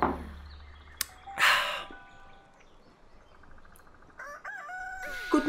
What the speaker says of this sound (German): der Hahn kräht